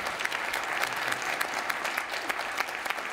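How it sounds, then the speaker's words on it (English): Steady applause from a conference audience for an education panel, even and continuous clapping heard at a moderate distance without any talking. "A big round of applause for our panel."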